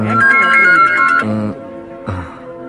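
A phone ringtone plays loud and close as a repeating melodic tune, stopping after about a second and a half, then a brief further sound follows.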